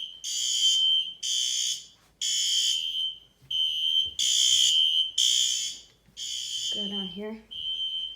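A building fire alarm system sounding during a test blares in loud repeated electronic tone bursts with short gaps, close and piercing, while someone speaks briefly between pulses.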